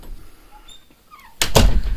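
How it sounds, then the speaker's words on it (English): A door being closed in a home theater room, a single loud thud with a short rattle after a quiet moment, close by. "I'm just going to close the door now."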